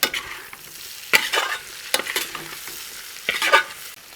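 Orange chicken with butter and coriander leaves is stirred in a hot pan, with a spoon scraping and clattering in irregular bursts over a steady sizzle, close up and with no voices.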